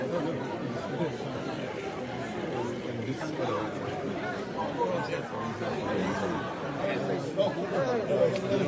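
Dense, steady crowd chatter at a Sierra Leone celebration of its UN Security Council seat, many overlapping voices forming a continuous hubbub with no single voice standing out.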